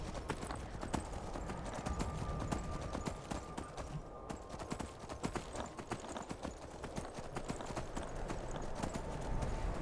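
Steady, rapid clip-clop of horse hooves running throughout in Skyrim, with a busy game soundscape underneath and no talking.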